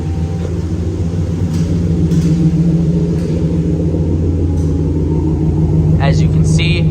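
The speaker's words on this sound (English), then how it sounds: "Start this Ram truck up." A Ram truck with a Gibson exhaust idles with a deep, steady low rumble that stays constant throughout, close up, while someone talks over it.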